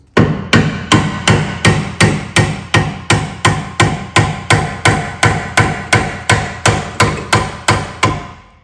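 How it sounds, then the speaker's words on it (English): A hammer taps a seized rear brake carrier on a Vauxhall Mokka, striking metal about twice a second in a loud, even, ringing series with no talk. "You're going to get your hammer and tap this."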